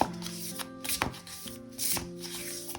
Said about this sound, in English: So I'm just going to shuffle and pull a card